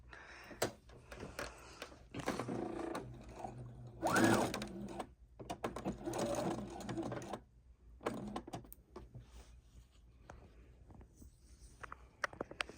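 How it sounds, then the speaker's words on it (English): Husqvarna Viking sewing machine running a straight stitch while piecing quilt blocks, heard in bursts of rapid needle chatter separated by pauses and small handling clicks, close by with no talk. "we are working on the Husqvarna Viking today. We're doing a straight stitch."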